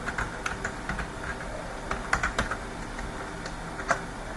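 Java code being typed on a computer keyboard, a quick irregular run of close key clicks and taps over a low background hum, with no voices.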